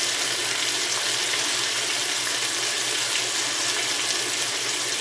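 Chicken stock pours back into a pan of Chicken Marengo, a steady close rushing splash and hiss lasting the whole few seconds at an even level.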